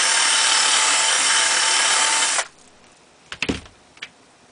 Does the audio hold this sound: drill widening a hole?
yes